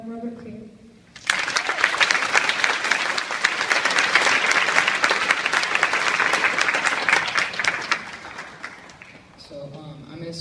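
An audience at a school breaks into loud, sustained applause welcoming a Navy veteran great-grandfather, a dense clapping roar lasting several seconds, with a voice speaking briefly before it starts and again as it fades.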